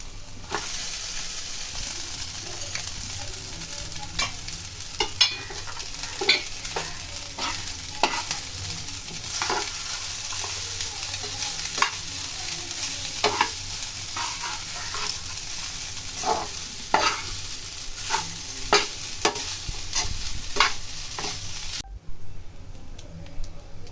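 Rice for chicken fried rice being stir-fried in a hot pan, a steady close sizzle with repeated scraping and stirring strokes, no voices, ending abruptly.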